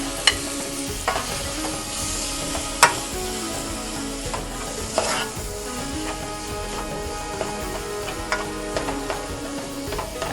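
Chopped eggplant sizzles in melted butter in a pan, a steady frying hiss with intermittent scraping stir strokes and small clinks, heard close and alone.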